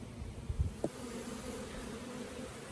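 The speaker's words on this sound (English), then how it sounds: "you can see the bees are scattered everywhere" A steady low buzz of honeybees around a hive hangs in the background, with a few soft knocks near the start; no one speaks.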